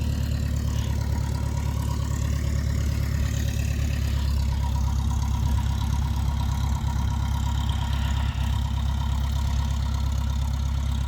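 A small Piper Cub aircraft engine idles on the ground at an airfield before taxiing, a steady droning hum with a low throb that runs unbroken and fairly close.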